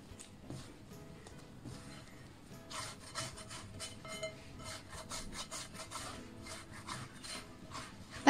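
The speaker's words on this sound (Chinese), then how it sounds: "拌至没有干面粉的状态" Flour and sugar, 15 grams of sugar with 180 grams of cake flour, are stirred into a batter for blueberry yam pancakes, giving a quiet, repetitive scraping and rubbing with a steady back-and-forth rhythm and no speech.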